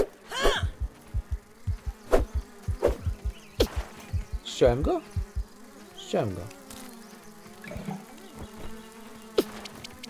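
Insects, horseflies among them, buzz loudly and up close in the Grounded video game over a damp meadow, their drones rising and fading repeatedly while someone talks over them.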